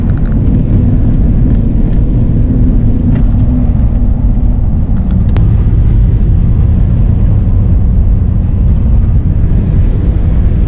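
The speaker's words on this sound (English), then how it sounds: "we're kind of going through snow right now in a park, and this thing is just tearing it up" A 1990 Ford Bronco Eddie Bauer with 31-inch off-road tires drives through snow in a park, its engine and tire rumble a steady, loud low drone from start to finish with no voices.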